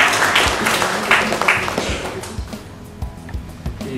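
Scattered, fading applause from an audience at a school district knowledge contest, loud at first and thinning into a few separate claps and thuds.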